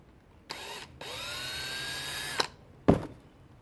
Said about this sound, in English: So we'll take a screw, we'll drill that baby in.